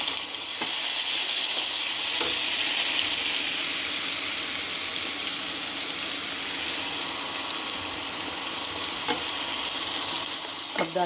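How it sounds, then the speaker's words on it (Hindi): Onion with cumin seeds frying in hot oil for an arbi sabzi, a steady, close, broadband sizzle that runs unbroken throughout, with a few faint clinks of a utensil and no talking. "उसके बाद हम इसमें प्याज डालेंगे ज़ीरा लाल होने के बाद"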